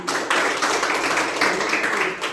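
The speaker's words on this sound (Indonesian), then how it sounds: "Iya, bagus, tepuk tangan." A school class claps their hands together in a short, dense burst of applause, many hands clapping at once, loud and close in a classroom.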